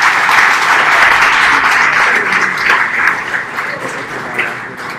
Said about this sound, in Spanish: la recibimos con un aplausote